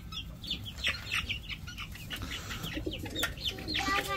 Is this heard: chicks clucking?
yes